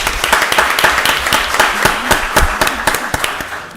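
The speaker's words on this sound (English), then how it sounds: "Give her another round of applause." Dense applause fills a county board of commissioners meeting, many hands clapping steadily and close for the whole stretch, with a few sharper claps standing out.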